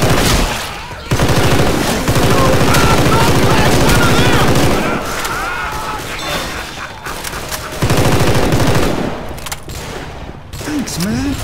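Heavy, sustained Left 4 Dead 2 gunfire rattles loudly in two long stretches of rapid automatic shooting, with shouting voices mixed in.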